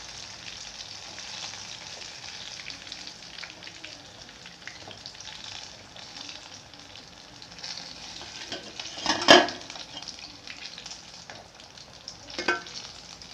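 Chicken bajji frying in hot oil, a continuous soft sizzle with a sharp utensil clatter near the end as the pieces are turned over, followed by another lighter clink.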